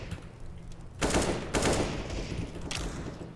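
Bursts of automatic gunfire from the video game CS:GO, three loud rattling volleys in quick succession over a steady background hum, with no talking.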